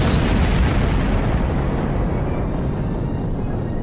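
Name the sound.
explosions in a video game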